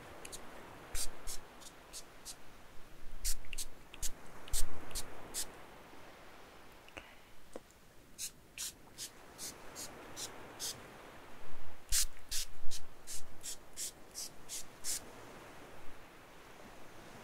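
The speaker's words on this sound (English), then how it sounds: "Very subtle, but I'll spray a little bit more." Repeated quick bursts of spray from a misting bottle onto hair during a haircut and spa session, fired in short rhythmic runs of several squirts with brief pauses between groups, close to the listener.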